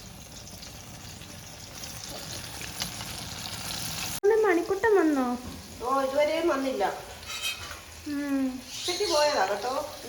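Jackfruit pieces coated in rice batter fry in hot oil with a steady, dense crackling sizzle, while two people talk loudly over it in the second half.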